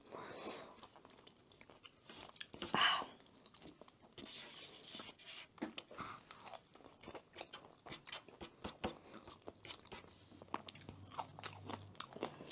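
Spicy chicken wings chewed and bitten close to the mic in a mukbang, soft wet crunches and smacks in irregular bursts, with a louder bite near the start and quiet stretches between.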